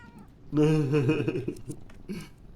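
A cat meows in The Darkest Files video game, one drawn-out, wavering meow up close, followed by a couple of shorter, fainter mews, with a voice speaking briefly.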